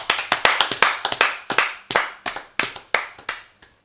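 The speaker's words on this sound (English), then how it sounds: "I think that deserves a round of applause." A short burst of close, crisp hand clapping from a small group, uneven claps that thin out and stop after a few seconds.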